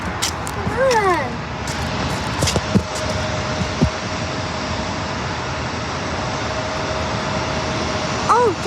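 A passenger jet taxis at San Diego airport, its engines a constant broad roar that fills the background, with a few brief higher whines and faint voices nearby.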